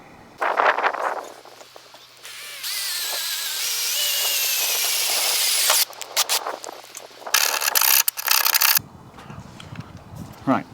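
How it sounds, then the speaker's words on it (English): A power drill bores a hole through a car's bodywork for a dashcam cable, a loud sustained whine in long runs broken by short pauses and rougher grinding bursts, close to the microphone. "Right, I've drilled the hole, filed it down a little bit."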